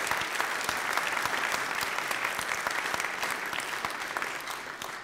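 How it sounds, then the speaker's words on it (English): A church congregation at a Thanksgiving festival applauds with steady, dense clapping from many hands for several seconds, slowly thinning toward the end. "I want to ask the band to applaud our congregation this evening."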